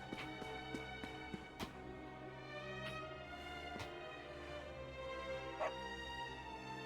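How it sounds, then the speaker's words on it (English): A dog in Dragon Quest XI gives a series of short barks and yips, then a few scattered clicks and a whimper against a soft game background. "Here's a dog we can pet."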